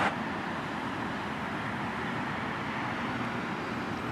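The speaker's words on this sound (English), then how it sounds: "I'm kind of sorry for the traffic noise here." Steady low roar of passing road traffic by a historic church in Maryville, Tennessee, continuous and fairly even, with no distinct voices or breaks.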